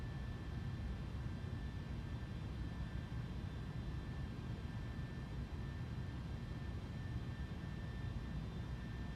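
An aircraft engine in a flight simulator video game drones steadily with a constant broadband roar and a faint high whine, soft and unchanging throughout, with no speech.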